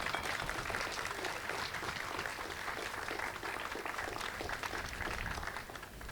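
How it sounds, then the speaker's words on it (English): Audience at a welcome back ceremony applauding for themselves and the Sisters of St. Joseph, a steady wash of clapping from many hands lasting throughout, fairly even and moderately loud. "a hand of applause for yourselves and for the Sisters of St."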